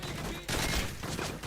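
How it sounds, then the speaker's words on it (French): Heavy machine gun fire from the video game Modern Warfare 3 in survival mode, a dense, loud continuous burst of rapid shots lasting the whole short moment with no talk. "je vais prendre ma grosse mitrailleuse"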